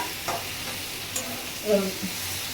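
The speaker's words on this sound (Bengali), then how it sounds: "এটা আস্তে আস্তে ভাজা হোক" Ridge gourd fries slowly over low heat in a pan with a soft, steady sizzle, broken by a few brief scraping stirs close by.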